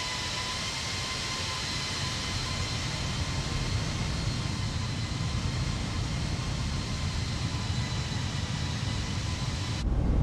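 An airliner landing in Microsoft Flight Simulator: a loud, steady roar of engine and rushing air holds unbroken for about ten seconds, then shifts abruptly just before the end.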